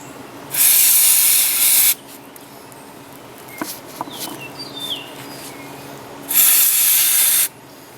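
Aerosol brake cleaner is sprayed onto the brake rotors of a Ford Taurus in two loud, steady hissing bursts, each lasting over a second, with faint clanks and small workshop sounds in the gap between them.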